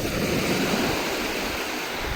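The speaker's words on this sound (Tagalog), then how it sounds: "Kalmado, ganito lang yung alon dito" Steady wash of gentle sea surf close by, a continuous soft hiss and rumble of water without distinct crashing breakers.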